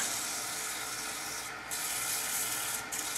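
Light sanding of a turned wooden Christmas ornament with 220 grit sandpaper, a steady close hiss of paper rubbing spinning wood, continuous with two short dips.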